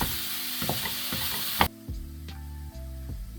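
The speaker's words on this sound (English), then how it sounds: "I'm just going to cook this on medium to low heat until the hamburger is done" Hamburger and onions frying on a stove over medium to low heat, a strong sizzle with utensil clicks that drops to a much quieter simmer about halfway through, over a low hum.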